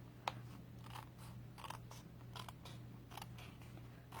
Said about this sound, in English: scissors work really good. And then just cut off the excess stuff.